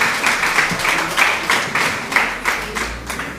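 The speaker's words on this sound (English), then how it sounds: "Give them a big round of applause, ladies and gentlemen" An audience at a mental health forum gives a short round of applause, heard as uneven clustered claps with a rhythmic pulse, close and fairly loud.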